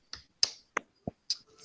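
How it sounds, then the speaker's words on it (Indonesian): Rhythmic spirit clapping done as a classroom cheer, heard as five sharp, separate claps or snaps in an uneven pattern, close and crisp against silence. "Ayo tepuk semangat dulu."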